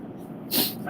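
A single sharp sneeze bursts out mid-clip, loud and close, against a background of casual conversation on the road.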